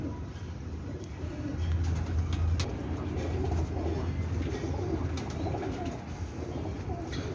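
Pigeons coo in low, soft repeated calls close by, with faint traffic noise in the background, in Rawalpindi.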